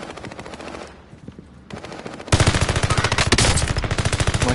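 Rapid automatic fire from an AMAX rifle in Call of Duty: Warzone, with scattered shots and then a loud sustained burst of fast, evenly spaced rounds close by.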